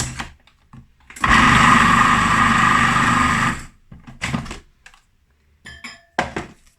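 A food processor whirs loudly for about two and a half seconds while it blends ground nuts with green juice pulp, followed by a few short pulses and clatters.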